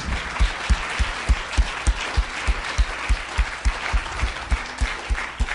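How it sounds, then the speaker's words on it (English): An audience gives a round of applause to a speaker after a lecture, clapping in a steady, rhythmic unison beat of strong, regular claps that keeps going for several seconds. "Okay, another round of applause for Dr. Tom Budzynski."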